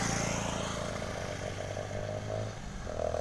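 A KTM Duke motorcycle engine runs steadily with a buzzing, fairly distant tone and a slight rise and fall in revs.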